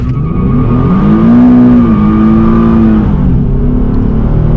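Nissan 370Z base coupe with automatic transmission and traction control off, launching hard with tires spinning; a loud, close engine rev climbs steadily, dips and climbs again, with a continuous roar throughout.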